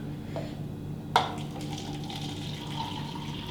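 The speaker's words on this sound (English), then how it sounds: "I'm gonna pour myself the rest of this coffee to drink." Leftover coffee pours into a cup in a kitchen. A soft trickle of liquid runs under low background hum, with one sharp clink against the cup partway through.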